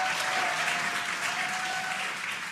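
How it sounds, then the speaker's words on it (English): A crowd of spectators cheers and applauds steadily as the SpaceX Dragon Freedom capsule descends under drogue parachutes, a dense, continuous wash of clapping heard from a distance with no voices standing out. "You can hear the crowd here."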